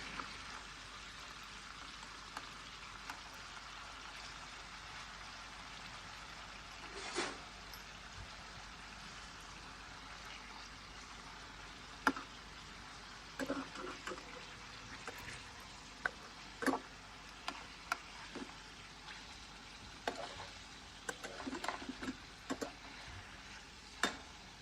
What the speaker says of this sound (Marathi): अशा पद्धतीने आपले फिश फ्राय झालेले